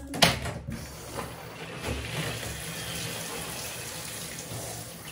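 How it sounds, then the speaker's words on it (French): Lukewarm tap water runs steadily while long hair is rinsed at home after colouring, a constant hissing flow under a brief sharp knock at the start, no talk. "On va rincer ça à l'eau tiède."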